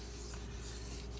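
Close, continuous scraping of a Benchmade Mini Crooked River blade being sharpened on a 1K whetstone, one brief even stroke with no voices.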